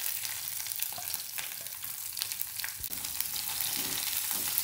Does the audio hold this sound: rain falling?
no